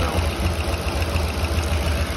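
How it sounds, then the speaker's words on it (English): A 2008 Ford 5.4 3V V8 idles steadily up close, a low rumbling drone with a faint ticking that could be rocker arm noise, alongside a bad exhaust leak and an ignition miss. "it sounds more like possibly a rocker arm noise"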